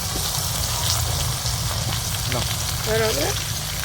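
Fish fries on paper over an open wood fire outdoors, giving a steady, close sizzle and crackle throughout, with brief faint voices near the end.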